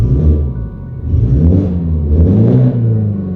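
BMW 330e with an Alibaba valved backbox exhaust revving while stationary, a loud deep droning rumble that rises and falls in two swells, close up.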